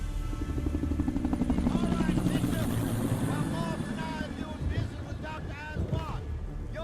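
Helicopter in the stealth game Splinter Cell: Double Agent at a Shanghai hotel, a steady low rotor drone with rushing wind noise throughout, while speech-like sounds run under it.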